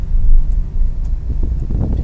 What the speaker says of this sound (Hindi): यहाँ हमारी गाड़ी रनिंग हो रही है